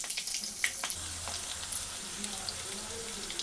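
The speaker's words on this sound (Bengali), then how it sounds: "পরে কাঁচা লঙ্কাটা দিয়ে দেবো।" Green chillies fry in hot oil for a vegetarian ghugni, giving a steady crackling sizzle with scattered sharp pops, close and moderately quiet, while a voice murmurs faintly underneath.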